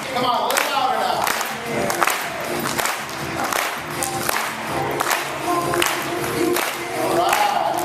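An audience at a live chef show claps harder and cheers, with dense rhythmic clapping, shouts and a few thumps forming a loud, continuous crowd roar, voices mixed in.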